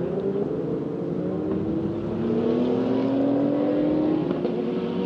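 A Lamborghini Huracán race car with the Invictus Corse team on track at Magny-Cours gives a sustained engine drone with rising tones as it accelerates, steady and fairly loud, with no voices.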